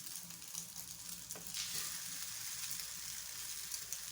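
A little oil fries in a pan with a soft, steady sizzle, quiet and close, swelling slightly after a brief stir, with no talk.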